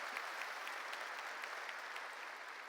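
Steady applause from a church congregation during a sermon, a dense even patter of many hands clapping continuously throughout, with no talk over it.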